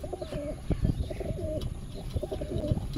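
Two rose pigeons, a young adult male and female pair, coo repeatedly in soft, rolling phrases close by, their low calls steady over a constant background hiss.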